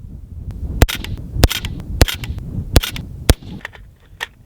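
A Ruger Mini 14 rifle firing cheap 55 grain ammunition: several sharp, loud reports in fairly quick succession, heard over a rumbling outdoor background with fainter clicks and knocks between shots.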